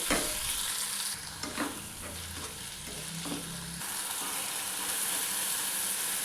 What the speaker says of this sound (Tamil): தக்காளி நல்லா வறுபடட்டும்.